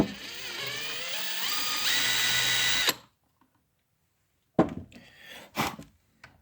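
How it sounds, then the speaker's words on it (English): A power drill with a 1/4 inch bit whines loudly for about three seconds, pitch rising as it enlarges a hole in an R/C boat hull, then silence followed by a few short scraping and clattering bursts. "we're going to go ahead and enlarge the hole to a commonly found 1/4 inch drill bit"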